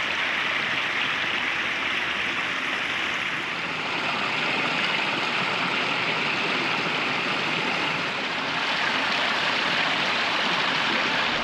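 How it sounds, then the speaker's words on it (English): Water pours steadily over a backyard pondless waterfall, a close, continuous rushing splash with no voices and only slight swells in loudness. "Today we're going to look at his Pondless Waterfall"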